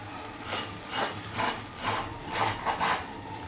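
Crisp rasping and crunching come in several short rubbing bursts as crispy potato parathas with a crackly crust are pressed and handled, close and fairly quiet.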